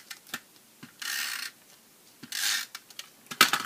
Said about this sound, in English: So we're going to just use snail adhesive